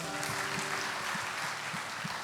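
A church congregation claps together in a steady, fairly even applause, a dense patter of hands filling the room at moderate volume with a few louder claps standing out.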